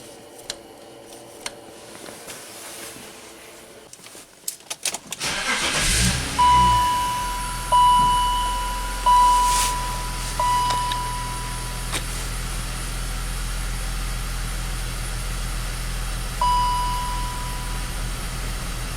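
A BMW X5 engine idles with a low steady rumble after starting, its running uneven as it misfires, with a few short tonal beeps and clunks close by.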